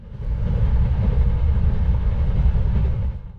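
Sembrani passenger train rumbling past Lemah Abang station in Indonesia, a steady, loud low-pitched roar of wheels and engine that holds for a few seconds before easing off at the end.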